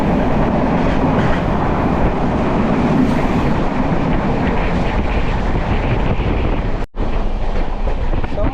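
A fast-moving train on the Konkan Railway during the monsoon, heard from on board as a loud, steady rumbling roar with faint rhythmic clatter, briefly cut by a short dropout near the end.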